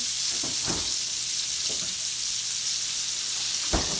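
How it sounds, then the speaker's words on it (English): Whole milk poured into a hot pan for chicken fried steak gravy, a steady sizzle and bubbling fry running throughout with a few brief louder splashy bursts near the start and one sharp spike near the end. "now I'm going to put a little milk in here"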